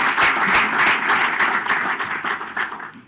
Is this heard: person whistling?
no